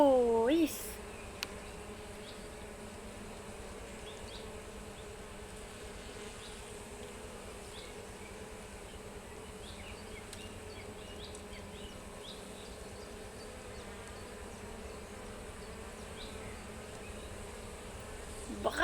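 Bees buzz steadily in a continuous, fairly faint drone that holds throughout, with brief sharper buzzes of individual insects passing near.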